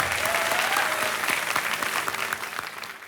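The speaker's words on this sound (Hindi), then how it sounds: "तालियां बज जाएं जोड़ीदार के लिए।" Sustained clapping from a quiz-show studio audience for a contestant's partner, full and steady throughout, with a faint tonal sound underneath and no talk.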